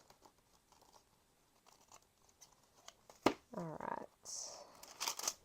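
Scissors snip through junk mail envelope paper in a few short, crisp cuts near the end, following quiet handling and a brief spoken word.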